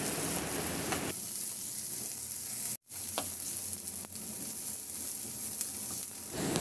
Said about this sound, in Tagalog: Igisa ko na yung bawang.